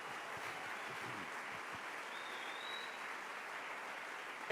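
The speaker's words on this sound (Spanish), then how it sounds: "Denle un aplauso bien fuerte al Rey" Applause from a church congregation at a Friday worship service, a steady, soft wash of many hands clapping, distant and even throughout with no voices over it.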